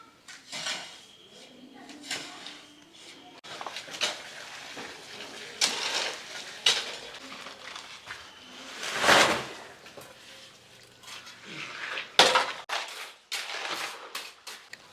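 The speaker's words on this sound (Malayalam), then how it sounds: "നമ്മൾ കോൺക്രീറ്റിൻ്റെ മിക്സിങ് തുടങ്ങി." Wet concrete being mixed by hand for a small home extension, with repeated scraping, clanking and gritty shoveling strokes in an irregular rhythm and a few louder bursts, fairly close.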